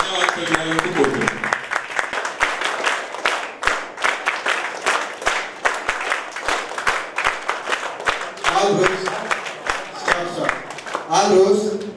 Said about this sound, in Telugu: మరొకసారి మన సిపి గారికి మనందరి తరఫున చప్పట్లతో మళ్ళీ ధన్యవాదాలు తెలియజేయాలని కోరుతున్నాను